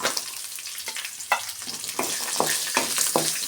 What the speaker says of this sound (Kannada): ಅದನ್ನು ಆಯಿಲಲ್ಲಿ ಚೆನ್ನಾಗಿ ಫ್ರೈ ಮಾಡ್ಕೊಬೇಕು